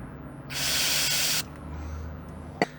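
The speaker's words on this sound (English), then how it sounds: "Give the bleed nipple a clean, a blast with cleaner, also give it a blast through" A single loud aerosol blast of brake cleaner through the bleed nipple of a VW Polo rear drum brake cylinder, a hiss of about one second, followed by a fainter trailing hiss and a small click.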